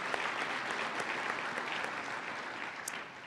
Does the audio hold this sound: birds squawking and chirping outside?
no